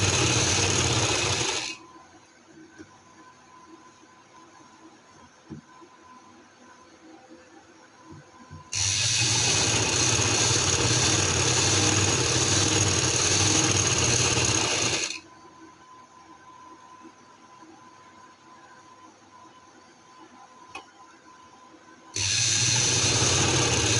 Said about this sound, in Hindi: अब हम इसके साइडों की सिलाई जोड़ेंगे